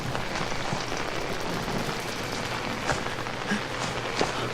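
Steady rain in the horror video game Outlast, a dense, even hiss of drops falling on surfaces with occasional louder splats, continuous and without speech.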